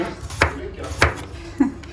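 A knife chops Japanese garlic cloves into thin slices on a cutting board in a home kitchen, giving three sharp, close chops spaced about half a second apart.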